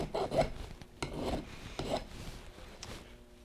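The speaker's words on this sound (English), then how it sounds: "So I am going to use this file and take those off quickly." A metal file rasps across weld nubs on a steel truss rod in three or four short, close strokes, then the scraping fades out.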